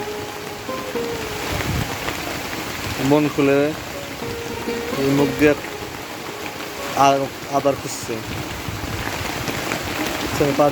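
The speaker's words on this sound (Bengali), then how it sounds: "বৃষ্টির পানি প্রচুর বৃষ্টি হইতেছে" Heavy rain pours in a constant wash of noise over a village while someone speaks in short bursts over it.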